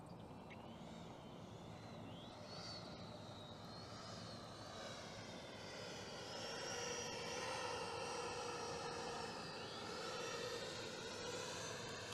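FMS 64mm electric ducted fan F-16 Fighting Falcon RC jet in flight, a faint airy whine with rising and falling pitch as the throttle changes, swelling louder in the second half.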